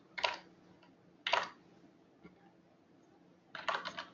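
Commands typed on a computer keyboard while modelling a tactical flashlight in Rhino for Windows: three short bursts of crisp key clicks separated by pauses, close and quiet, with no talking.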